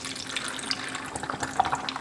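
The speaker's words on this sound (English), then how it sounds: "And we're going to put some water" Water poured into a cup holding a teaspoon of apple cider vinegar, a close trickling and splashing pour with a few drips, no talking.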